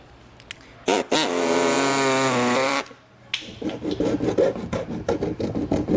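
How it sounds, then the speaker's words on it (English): A metal file smoothing freshly cut edges while a Curt trailer hitch is fitted to a 2021 Volkswagen: a sustained harsh whine, then a run of short, close rasping strokes. "we'll go back with a file and clean it up"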